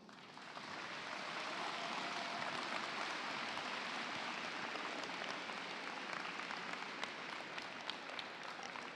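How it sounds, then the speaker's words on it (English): Robotics championship audience applauding everyone, including parents and volunteers, a broad sustained clapping that swells within the first second and holds steady and full throughout. "I want a round of applause for everyone, including the parents and all of the volunteers"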